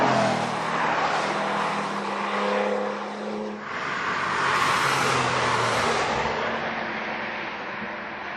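A car engine revs and roars continuously, rising and falling in pitch as it accelerates past, loud and close with rushing air and road noise, no one talking over it.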